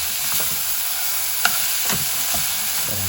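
A beetroot curry is stirred in a pan, giving a continuous soft sizzle with scraping spoon strokes and one brief knock against the pan.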